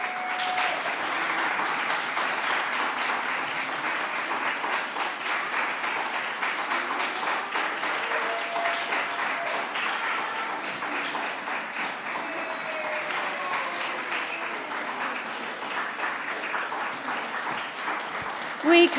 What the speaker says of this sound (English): I was wondering if I could have all the volunteers in here, please, because I think they need a big round of applause.